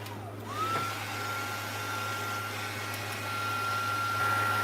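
A heat tool blows a steady, even airflow hum over embossing powder on a card, with a faint high whine running throughout and no voices.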